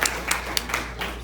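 Hand clapping at an outdoor Labor Day party, a handful of separate sharp claps spaced over about a second, close and fairly loud over a constant low hum.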